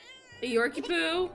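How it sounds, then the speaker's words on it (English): A cat in the video game The Sims 4 lets out a short, drawn-out, tonal meow, close and clear, with a voice speaking over it. "That was a cat. Yep, that was a cat."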